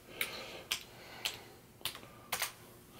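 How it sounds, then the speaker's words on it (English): A password typed on a Lenovo Yoga 11s laptop keyboard, five separate crisp key clicks at uneven intervals, close and quiet with no speech. "If I can type the right password."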